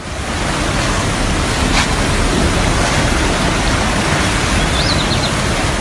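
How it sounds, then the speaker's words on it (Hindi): The Kali Sindh river in flood after continuous rain, a loud, dense, steady roar of rushing water with no letup. "दरअसल लगातार हो रही बारिश की वजह से काली सिंध नदी उफान पर है।"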